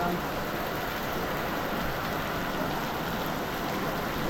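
Rain falls steadily outdoors in a village fishing area, an even, dense wash of hiss that stays constant throughout with no other distinct sounds.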